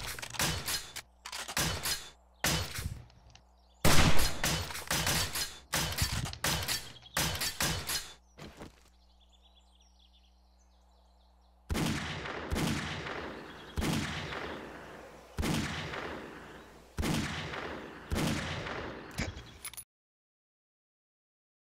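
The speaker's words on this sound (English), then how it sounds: "I'm just shooting him. He's just standing here watching me shoot him." A character being shot repeatedly in a video game: loud, sharp gunshots fired one after another in uneven bursts, separated by a short quiet gap, then another run of evenly spaced shots with echoing tails.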